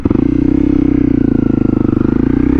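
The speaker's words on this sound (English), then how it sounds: "we're gonna pull in the clutch, hit the brake, downshift to first." A motorcycle engine running steadily and close, its pulsing idle-like throb continuous throughout as the rider pulls in the clutch, brakes and downshifts to first gear.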